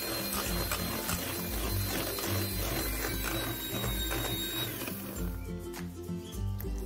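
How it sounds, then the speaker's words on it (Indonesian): An electric hand mixer beats eggs and sugar at high speed until thick and pale. It gives a loud, steady whirring motor drone with a rhythmic rattle, then eases slightly toward the end. "lalu mixer dengan kecepatan tinggi hingga putih kental dan berjejak"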